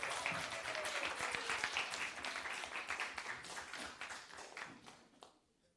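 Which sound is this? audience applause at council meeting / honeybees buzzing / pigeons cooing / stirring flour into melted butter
audience applause at council meeting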